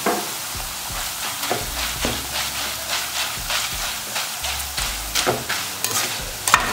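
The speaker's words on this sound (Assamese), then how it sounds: "এতিয়া মই ভাজিম চিৰা" Flattened rice (chira) frying and being stirred in a pan, with repeated scraping strokes over a steady sizzle, close and fairly loud, no voices.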